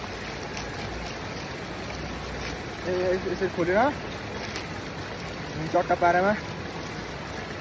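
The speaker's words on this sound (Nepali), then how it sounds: "साइडमा खोला बगिरहेको छ" A stream flowing beside a picnic spot at Sundrijal gives a steady, close broadband rush of water throughout, while someone speaks in two short bursts over it.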